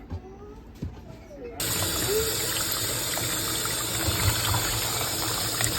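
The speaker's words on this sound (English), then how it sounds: "Wash it with some green lime." A pig's tail is washed with green lime under running water; after a quieter start the water gushes in strongly and keeps a steady, close rush with handling noises, while someone talks.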